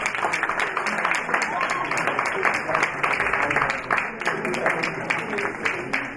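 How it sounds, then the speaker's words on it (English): Sustained audience applause at a Commonwealth Africa Summit fashion show and music event, a dense wash of many hands clapping steadily in a large hall, fairly loud and continuous with no talk over it. "Please let me give them a big round of applause."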